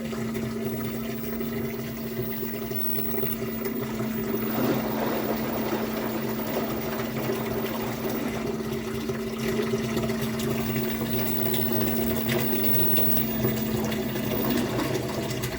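An LG WM4200HWA front-load washing machine drains and spins water out, a steady close mechanical hum with a pump whine and sloshing water, continuous and moderately quiet.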